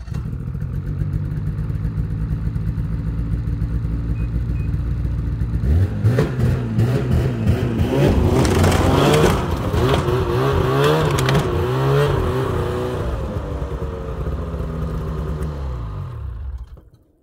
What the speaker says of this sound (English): let's put the sled in the truck